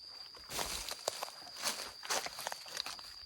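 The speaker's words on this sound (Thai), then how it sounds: "เสียงคนเดิน" Footsteps of someone walking at night along a path in rural Thailand: a series of irregular crunching steps on dry ground with rustling between them, fairly close under a steady high insect whine.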